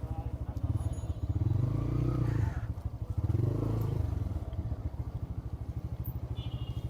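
A motorcycle idles and putters close by as it is moved into a BRTA (road transport authority) lot, its engine swelling twice in brief revs, with people talking over it.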